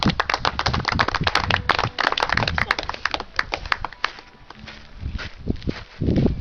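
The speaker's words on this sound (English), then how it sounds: "Can we give a round of applause again, please, for Tom Crow?" A festival audience at the Capel Hotel in Bargoed claps for a performer, a dense burst of hand claps that thins into scattered claps and then surges again.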